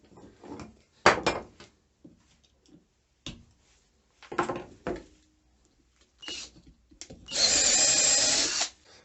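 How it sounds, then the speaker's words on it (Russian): Power drill driving a self-tapping screw into a plastic bottle cap, heard as several short whirring bursts separated by pauses, ending in a longer, louder sustained run. "Теперь берем и просто накручиваем. И вот наш саморез уже показался."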